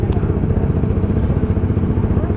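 A powered-up motorcycle engine idles steadily while stopped in traffic, a loud, close, continuous low rumble with slight clattering texture and no interruptions.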